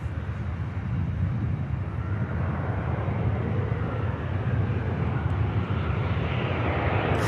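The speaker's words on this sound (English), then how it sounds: "Bit of a bump from the Swiss. The aircraft down nice and tidy." An aircraft landing at Manchester Airport: a steady, broad engine roar with rumble, heard from a distance and continuous throughout, no voices.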